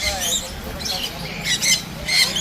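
Several birds squawk in short, shrill bursts over a busy pet and animal market murmur at Baguiati Joramandir, with people talking nearby.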